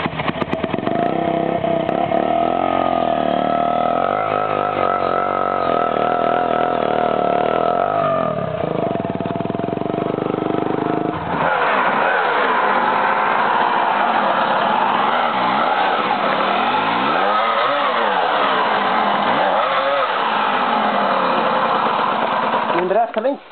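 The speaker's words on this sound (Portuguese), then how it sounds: "Três pessoas pra tirar uma moto do buraco, não é possível." Motorcycle engine on a dirt trail revving hard and unevenly as the bike is hauled out of a hole, loud and continuous, rising and falling in pitch, with people talking and shouting over it throughout.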